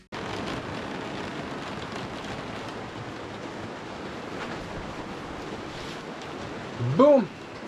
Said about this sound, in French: Il pleut, mais alors, et il fait gris